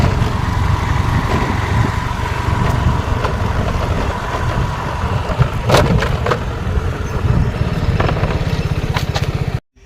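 A car being driven on a road, its engine running steadily throughout and a continuous rattling rumble from the body, loud and close with no voices.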